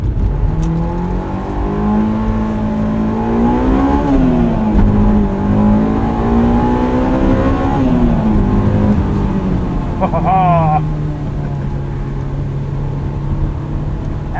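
Intake and induction noise from a 2001 Honda S2000 engine driving on snow tires in winter, a steady loud drone that rises and falls as the engine accelerates, heard from inside the car.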